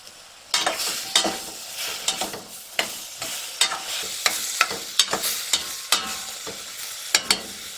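Lamb pieces dropped into a hot pan for lamb in red wine, sizzling quietly underneath while a utensil knocks and stirs in sharp, irregular clacks close to the listener, no voices.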